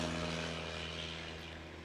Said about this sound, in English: Joe Dory now pulling that pacer off the ground